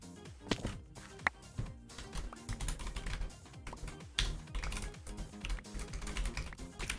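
Rapid clattering keystrokes on a computer keyboard during a Minecraft Bedwars game, dense and continuous, mixed with loud game sounds throughout.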